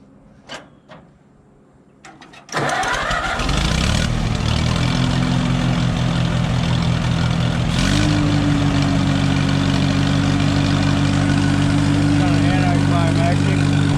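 An Allis-Chalmers WD farm tractor engine cranks after a couple of quiet knocks and catches, then runs loud and steady near by, with a pitch rise about five seconds later as it settles into a rough, continuous idle.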